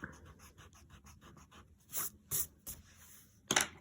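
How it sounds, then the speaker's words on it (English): Pencil eraser rubbing back and forth on paper while a simple cookie shape is being drawn, a quick run of soft rapid scrubbing strokes followed by a few sharper, louder brushing swipes near the end. "And then I'm going to erase"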